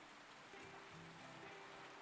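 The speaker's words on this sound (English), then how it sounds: "It's the rain I'm hearing that I thought was the water" Rain falling in the video game Gold Rush, a steady soft patter on surfaces that holds at an even, quiet level throughout with a low hum running beneath it.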